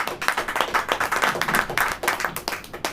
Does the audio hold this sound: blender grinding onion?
no